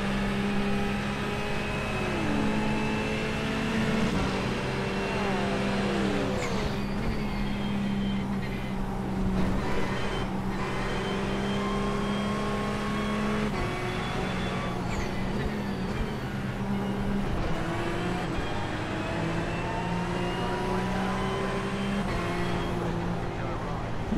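A Ferrari race car engine in the iRacing sim roars steadily throughout, its pitch rising and falling through gear changes and corners, loud and continuous with occasional faint voice underneath.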